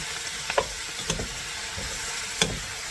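Shredded cabbage fries in bacon fat over a high flame, giving a low, even sizzle, while a utensil scrapes and taps in the pan three or four times.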